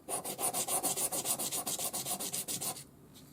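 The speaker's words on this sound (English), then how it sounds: "So then I just give it a quick rub on the stick, have a look, make sure it's level." A small metal piece is rubbed back and forth on a sanding stick to level it before soldering, giving a steady run of about fifteen rhythmic rasping strokes, close and fairly loud, that stops near the end.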